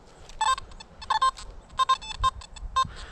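A Nokta Makro Simplex metal detector beeps in repeated short electronic tones at an irregular rhythm, some clustered in quick pairs and triples, close and clear in an outdoor park with faint low rumble beneath and no talk.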